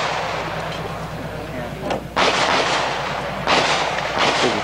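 Loud gunshots at a shooting match, with two sharp reports ringing out a couple of seconds apart over a steady outdoor background.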